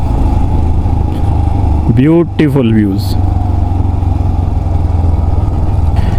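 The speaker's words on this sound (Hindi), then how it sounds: "सारे बाइकर्स अभी जा रहे हैं बहुत केयरफुली, बिकॉज़ ये बहुत स्टीप है और फर्स्ट और सेकंड गियर एंगेज करके ही बाइक चल रही है।" Motorcycles grind slowly down the steep Jalori Pass in first and second gear, a steady low engine drone running throughout while someone briefly talks over it.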